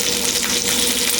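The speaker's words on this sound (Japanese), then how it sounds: "水がなくなるまで、焼いていきます。" Gyoza dumplings frying in a pan as the water boils away, a steady close hiss and bubbling crackle holding at an even level throughout.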